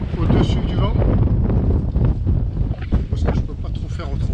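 A sailboat tacking in strong wind on its approach to port at Palmeira, with heavy wind buffeting and rushing noise dominating throughout, and some water and hull movement underneath.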